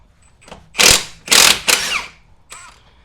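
A big Milwaukee impact wrench hammers off car suspension bolts in three loud, close bursts of rapid rattling, with short pauses between them and a fainter burst at the end.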